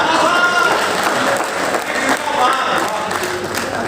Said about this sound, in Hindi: आप लोगों ने जितनी तालियां बजा दी उतनी की उम्मीद मुझे नहीं थी